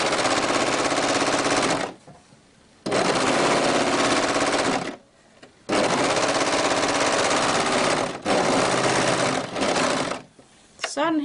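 A sewing machine stitches a stretchy seam in jersey fabric for a summer top, running in several long, steady buzzing stretches broken by brief pauses.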